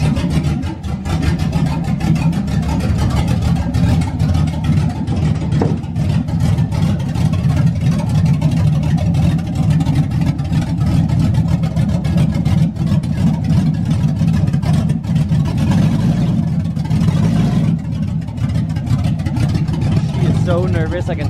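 A bagged 1962 GMC truck with an LS engine swap rumbles and revs continuously while moving slowly, engine note rising and falling under throttle, with people talking over it throughout.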